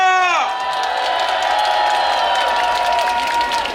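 Crowd at an outdoor presidential campaign rally in Suncheon breaks into cheering and clapping as an amplified voice trails off, a loud continuous roar of applause and shouts filling the air.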